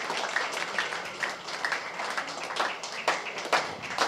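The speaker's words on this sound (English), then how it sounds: "Give her a good round of applause." Applause from the audience at a national academic symposium at the University of Madras, a dense wash of scattered claps with a few sharper individual hits, steady and moderately distant throughout.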